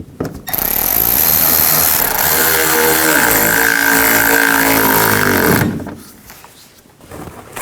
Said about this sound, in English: And put these 2 screws in.